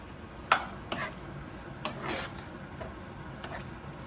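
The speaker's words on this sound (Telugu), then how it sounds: "దీన్ని ఒక 10 నిమిషాలు ఆయిల్ మొత్తం పైకి వచ్చేదాకా ఈ ఉల్లిపాయ వాసన పచ్చి వాసన పోయేదాకా వేయించుకున్నామంటే" Chopped onions fry in plenty of oil for kakarakaya ullikaram, a faint steady sizzle punctuated by several sharp scrapes and clinks of a spoon stirring against the pan.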